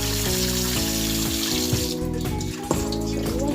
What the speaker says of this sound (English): Always wash your meat with vinegar, lime, and running water.